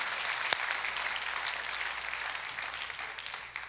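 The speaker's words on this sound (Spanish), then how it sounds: "Denle un aplauso a la gente que ministra aquí" Church congregation applauding a ministry team during a sermon, a steady dense wash of clapping that holds evenly throughout with one sharp louder clap near the start and a slight thinning toward the end.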